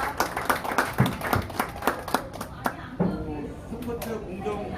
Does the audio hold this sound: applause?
yes